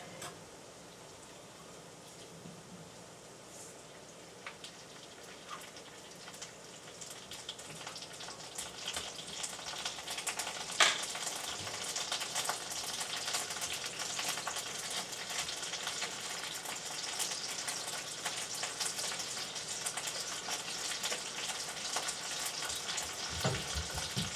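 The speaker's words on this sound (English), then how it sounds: "Now let's put the garlic in." Garlic fries in a pan for about 24 seconds, a faint steady sizzle with crackles that grows a little louder over time, no talking.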